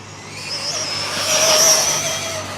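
A Traxxas Rustler RC car runs close by, its electric motor whining steadily with a rising high-pitched tone that swells briefly, with no talking.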